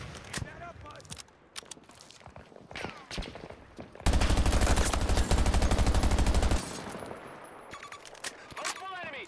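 Gunfire in the Battlefield 2042 video game: scattered nearby shots and clatter give way to a loud, sustained burst of rapid automatic fire lasting a couple of seconds, then sporadic shots and metallic sounds.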